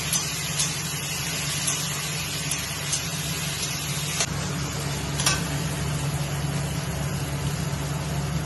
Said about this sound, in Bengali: এবার এই পেঁয়াজ আর টমেটোটা বলতে দেবো আর পেঁয়াজটাকে একটু লাল লাল করে ভেজে নেবো